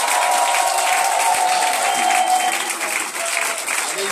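A church congregation applauds loudly and steadily, a dense wash of clapping with some cheering that holds for several seconds without a break.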